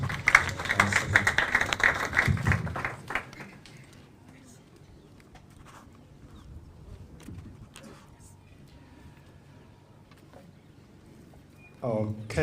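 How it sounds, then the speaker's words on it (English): An audience applauds at the launch of a national action plan, a loud burst of clapping for the first few seconds that fades into quiet room tone, then a brief noise at the end. "Let's give the DIG a big round of applause."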